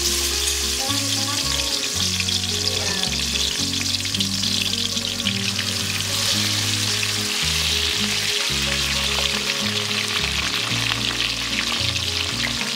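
Garlic frying in hot oil in a pan while sambal terasi is being made, a steady dense sizzle that crackles and pops throughout, close and loud, with the low scrape of stirring underneath.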